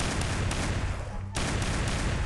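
Dense, rapid gunfire from a special gun skin in a mobile shooter game plays as a continuous loud burst with a brief gap near the middle, close and alone.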